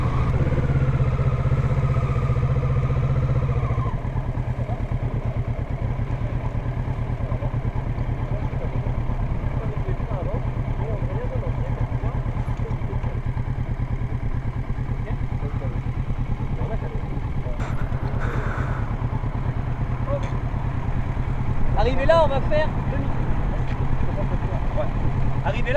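Motorcycle engine idling steadily at close range during a riding lesson for an A2 licence, a low continuous rumble with occasional revs, while an instructor speaks over it.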